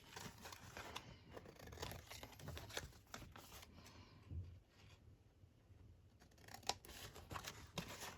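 Scissors cutting paper to shape an envelope, faint close snips and soft paper rustles in an otherwise quiet room.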